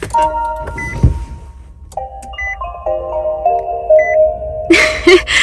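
An electric car's start-up chime, a soft tablet-like electronic tone: a few steady beeping notes and a sustained melodic tone, followed by a brief brighter chirp near the end, close and clear with no talking.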